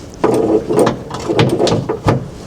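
A 10mm socket wrench ratchets onto a nut behind a small access hole in a Fiat Ducato motorhome door, giving a series of close, loud mechanical clicks and turns.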